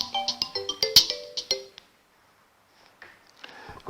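An incoming call rings on a phone line during a call-in broadcast, as a bright repeating chime tone plays several quick notes for about two seconds, then cuts off into near silence before faint room noise and a voice.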